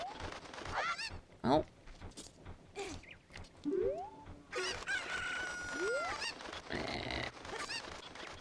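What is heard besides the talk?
cucco chicken clucking and crowing in video game Zelda Ocarina of Time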